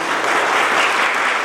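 Applause from guests at a church-style wedding ceremony during the exchange of vows: steady, dense clapping from a crowd, loud and close, with no voices over it.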